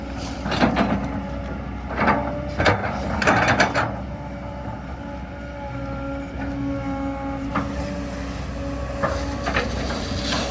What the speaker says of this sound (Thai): เสียงปั๊ม เอกลักษณ์ของโกเบครับ